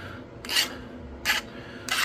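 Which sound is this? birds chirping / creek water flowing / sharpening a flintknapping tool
sharpening a flintknapping tool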